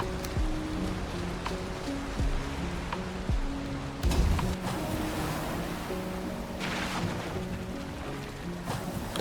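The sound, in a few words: rain in the video game Valheim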